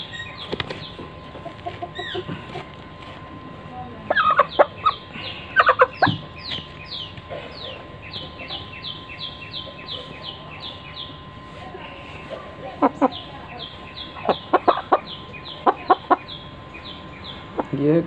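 Chickens being prepared for a Ranikhet disease vaccination cluck repeatedly in short bursts, joined by wing flapping and occasional louder squawks, fairly close against a steady background hum.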